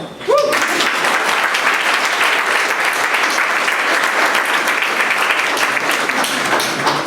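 Loud, dense audience applause at a Polish high-school prom ball, a sustained wall of clapping that continues unbroken, with a brief voice at the very start.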